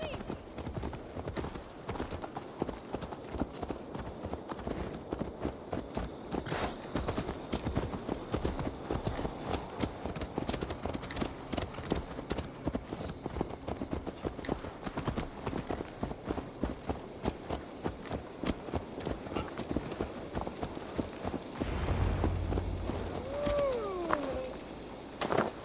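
Horse hooves clip-clop in a steady, continuous trot through a medieval English setting in Assassin's Creed Valhalla, moderately loud under game ambience and voices speaking.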